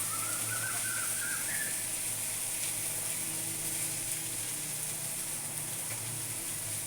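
Samosa filling sautés in a little oil in a village kitchen, giving a steady, close hiss and sizzle that runs unbroken throughout, with a faint high whistle-like tone early on and no talking.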